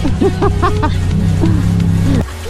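A wedding car passing on the road, heard close from a motorcycle, with a steady engine hum under laughing speech that cuts off near the end.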